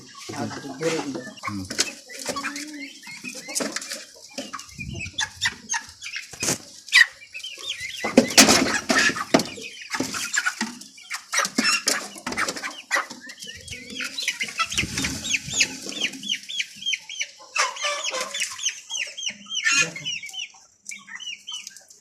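Brahma and Silkie chickens cluck and squawk inside a cage at a farm, with frequent overlapping calls, occasional wing flaps and louder bursts, close by throughout.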